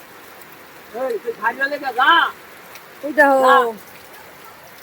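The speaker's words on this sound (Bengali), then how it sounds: "বৃষ্টি, দেখো বৃষ্টি, দেখো অবস্থা" Heavy rain falls over a village, a steady broadband hiss running throughout beneath a voice that talks over it in two bursts.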